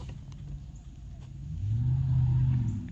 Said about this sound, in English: they're driving like 20 miles an hour